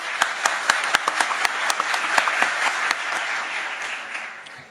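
An audience at a football federation election meeting claps in a burst of scattered, distinct hand claps that thin out and fade toward the end.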